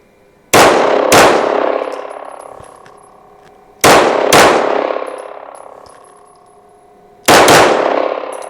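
Rifle firing 124-grain NATO rounds in quick pairs at a steel target about ten meters away: three double shots, each with a sharp crack and a long ringing clang from the struck steel that decays between pairs.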